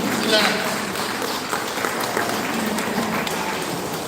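An audience at a pyramid meditation centre claps, a loud, dense burst of applause that fades to a steadier patter, with voices mixed in.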